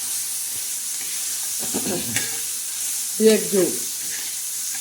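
Green chili paste, made from crushed green chilies, frying in a pan while being stirred for a wild amaranth dish: a steady, close hiss runs throughout, with someone speaking briefly over it.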